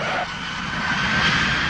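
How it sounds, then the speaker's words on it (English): A jumbo jet on landing rollout, its engines giving a steady broad roar with a thin whine running through it, loud and continuous with no voices. "On touchdown, clouds of smoke shoot from the tires of this jumbo jet."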